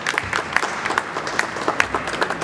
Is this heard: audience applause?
yes